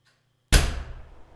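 A heavy steel security door in a basement slams shut once, a sharp loud impact at close range followed by a low booming decay that rings out over about a second, with no voices present.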